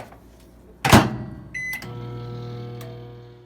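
A microwave oven's keypad beeps as it is programmed, with a loud clunk of the door or button, then the oven hums steadily as it starts running.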